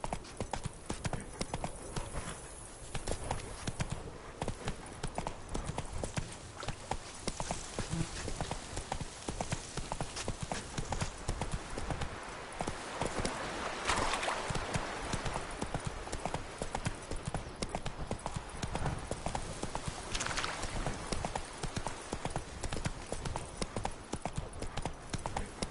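A horse gallops in Witcher 3: Wild Hunt, its hooves beating a rapid, steady clip-clop that runs without a break for the whole stretch, with faint ambient game sound underneath.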